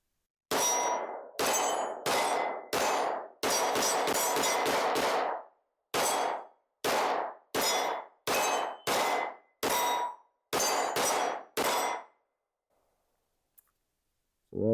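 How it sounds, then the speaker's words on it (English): Rapid pistol shots ring out from a CZ P09 C Nocturne, each a sharp close crack with a metallic ring. They come as singles and quick strings with short gaps, then stop. "Try to speed it up a little bit because it is a a very fun gun to shoot."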